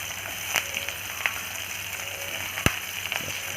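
Chopped onion and green chili frying in oil in a pan, a steady soft sizzle with occasional sharp pops and crackles, close and fairly quiet, without talk.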